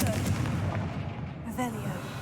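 A Confringo blasting spell explodes in Hogwarts Legacy, a loud booming blast with a rumbling tail that rolls straight into a second, sharper impact.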